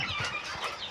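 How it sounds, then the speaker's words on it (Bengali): A small hen clucks faintly while laying an egg, a few soft, brief calls close by with no talking. "ডিম পারতে মুরগি কি পরিমাণে কষ্ট হয়, কি পরিমাণে কষ্ট হয়।"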